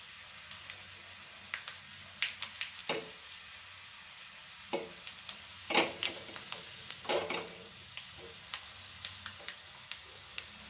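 Dried curry leaves crackle in hot oil for a Goan sol curry tempering, irregular pops and snaps scattered over a steady low sizzle, close and fairly quiet.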